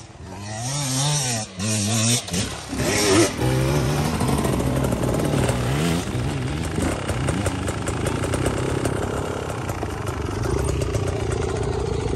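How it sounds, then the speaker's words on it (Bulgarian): A motorcycle engine revs and drones nearby, its pitch rising and falling as it grows steadily louder, with a few clattering knocks early on. "Иде мотор, иде мотор."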